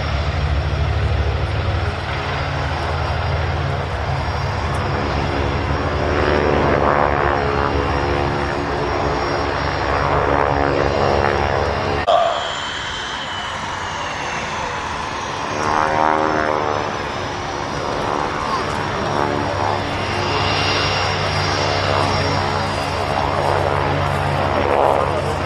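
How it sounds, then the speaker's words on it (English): A B-25 Mitchell bomber flies past at an airshow, its propeller engines giving a loud, continuous throaty drone for about twenty-five seconds, with a shifting pitch as it passes and an announcer's voice faintly underneath. "Here comes the B-25 Mitchell."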